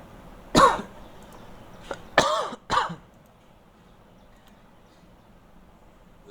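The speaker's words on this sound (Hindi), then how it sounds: "खांसी भी आई है बस" A person nearby coughs and clears their throat in a few short bursts, with quiet room tone between them.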